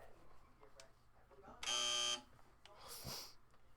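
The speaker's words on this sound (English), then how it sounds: "When you hear the buzzer, move to the right." A harsh electronic buzzer in the Evoland 2 video game sounds once, a short loud half-second blare over quiet game ambience, followed by a fainter hiss.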